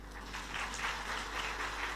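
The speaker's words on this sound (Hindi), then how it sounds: "आपने ताली तो बजाई" An audience claps during a spiritual discourse, a soft, distant patter of many hands sustained evenly for a couple of seconds.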